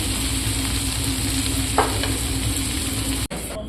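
Ingredients for a broiler chicken curry frying steadily in a pan with a constant hiss and low stirring scrapes, close and continuous, with a brief clatter near the end; no talking.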